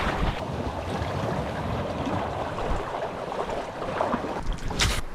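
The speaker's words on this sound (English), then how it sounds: "the waves are already rising" Ocean waves rising on a remote island shore, a steady rushing surf wash with gusty wind buffeting the microphone, close and continuous, with a brighter splash near the end.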